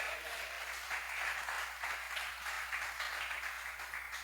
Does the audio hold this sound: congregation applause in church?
yes